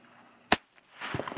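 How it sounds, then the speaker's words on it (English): A single sharp gunshot cracks out, fired at a Level 3A kevlar vest, with a brief quiet stretch and faint movement noises afterward. "let's fire three more shots and see how the vest does"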